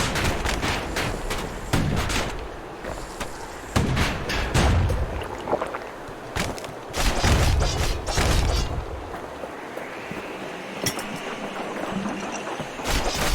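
Booming explosions and thudding blasts from a grenade special in the video game Bastion, several loud hits spaced irregularly over a busy game soundtrack.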